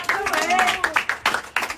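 A few sharp hand claps break out over excited voices, scattered and uneven rather than sustained applause.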